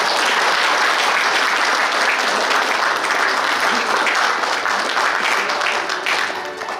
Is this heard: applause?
yes